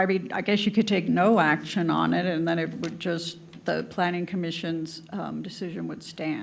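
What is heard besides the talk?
None of the usual background noises is heard.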